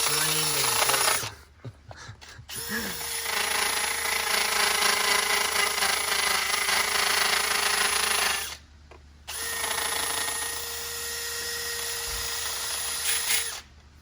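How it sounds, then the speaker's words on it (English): A cordless drill scrubs excess head gasket material off a blown-gasket Cummins engine, whirring loudly in long pulsed bursts with brief pauses between them, up close. "the cordless drill gives you a little bit more control because you can kind of pulse the trigger"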